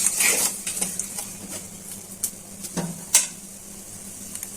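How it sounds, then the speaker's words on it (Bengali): Spice paste frying in a pan for a banana flower and stem bhuna, a soft, faint sizzle broken by a few sharp scrapes and clinks of stirring, with no talk. "একটু ভালো করে ভাজা হয়ে যাক মশলাটা।"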